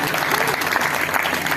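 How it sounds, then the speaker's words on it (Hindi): A brief burst of crowd applause at a Buddha Jayanti and Ambedkar Jayanti celebration, dense clapping throughout, with some voices mixed in. "माननीय नवाज खान जी के लिए एक बार जोरदार तालियां बजाइए"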